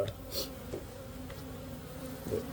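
Bees buzz around an opened beehive during small hive beetle treatment, a steady, close drone filling the whole stretch with a few louder passes and clicks.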